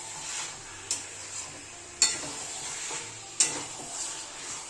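Mutton being stirred and sautéed in a pan, a soft constant sizzle broken by three sharp metallic scrapes and clinks of the spoon against the pan, close by.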